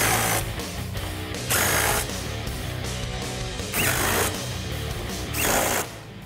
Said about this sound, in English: Then tighten all 5 bolts with a 13mm socket.